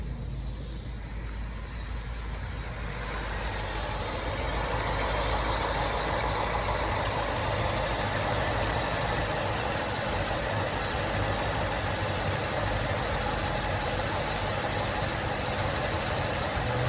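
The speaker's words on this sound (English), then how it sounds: "Okay, let's run the engine." A 2008 BMW X5 E70 4.8i engine idles steadily with a low rumble and constant hum, starting softer and settling into an even drone after a few seconds.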